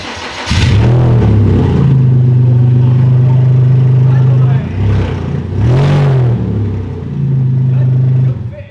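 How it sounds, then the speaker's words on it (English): An exhaustless Porsche 987 fires up and revs hard, a loud raw engine held at a steady high pitch for several seconds, dropping briefly, then revving again close by with no muffling. "We have an exhaustless Porsche, We have to do a startup now."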